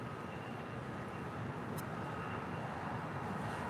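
Airliner taxiing toward a gate at LAX, a steady distant jet engine rumble and broad airport roar that continues evenly with no speech.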